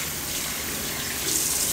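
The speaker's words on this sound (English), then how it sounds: "And again, give it a good rinse." Tap water runs steadily over a dirty liner being rinsed under a faucet, a continuous close splashing hiss that swells slightly louder near the end, with no voices.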